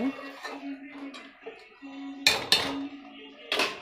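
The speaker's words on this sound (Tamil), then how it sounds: "போட்டு ஒரு நல்லா கிண்டி விட்டுக்கோங்க." A spoon stirs sundakkai vathal kuzhambu in a pot, giving sharp metallic clinks and scrapes against the pot, with a few loud strikes near the end and a low hum throughout.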